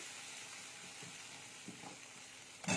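Turmeric sizzling in hot oil in a pan, a quiet steady hiss with a few soft stirring scrapes and a brief louder clatter near the end.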